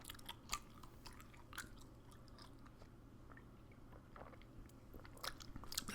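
Close, quiet chewing of peppermint gum: soft wet smacks and small crunchy clicks scattered irregularly over a faint background hiss, with no talking.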